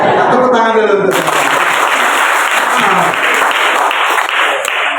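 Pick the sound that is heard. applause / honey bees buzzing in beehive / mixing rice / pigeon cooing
applause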